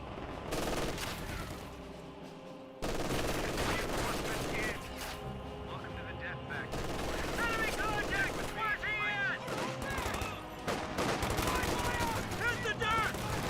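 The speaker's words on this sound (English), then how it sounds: "You do have now bars firing away." BAR rifles firing in the Company of Heroes 2 video game, with loud bursts of automatic gunfire amid battle noise, broken by a brief pause and later someone talking over the shooting.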